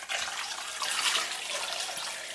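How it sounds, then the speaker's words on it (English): A stream of water poured from a big jug over pork meat in a cooking pot, a steady bright splashing gush lasting a couple of seconds, close and alone. "mix it all together just with a big jug of water. I like to pour it until it's just over the top"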